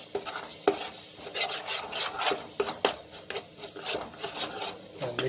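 Green chilli halwa mixture stirred in a pan, with repeated scraping and rubbing strokes in an uneven rhythm over a faint sizzle, close and moderately loud.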